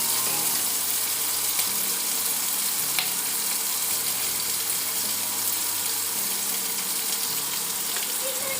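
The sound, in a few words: capsicum and potato frying in a pan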